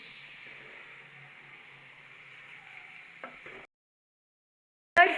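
Onions sizzling in hot ghee for spicy biryani, a steady crackling fry for over three seconds that cuts to silence, then a short sharp clatter at the end.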